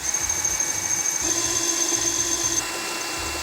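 A power drill whines steadily at close range, its pitch shifting slightly as it bites into metal screws on a computer power supply, with a motor hum underneath.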